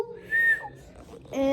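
A person whistles a few short, clear tones at close range in a bright, quiet setting, with brief pauses between the notes.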